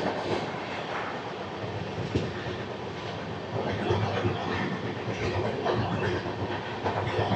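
A special passenger train from Chennai Egmore to Visakhapatnam, diverted from its usual route, rolls steadily along the rails with a constant broad rumble and rattling wheel noise that holds loud throughout.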